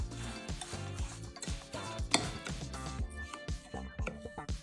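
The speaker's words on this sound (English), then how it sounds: "We're gonna mix together our crushed graham crackers, melted butter, sugar, and a pinch of salt." Crushed graham crackers, melted butter, sugar and a pinch of salt being mixed in a bowl for a Florida pie crust: steady rhythmic scraping and rubbing strokes, close and clear, with faint clinks of utensil on dish.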